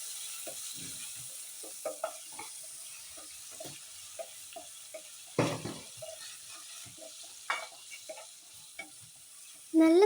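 Fish curry ingredients stirred in a frying pan, with scraping spoon strokes and soft clinks over a quiet sizzle, ending in a brief louder clatter.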